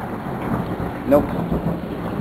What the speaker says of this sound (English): Rain is dying down a little. There still is some.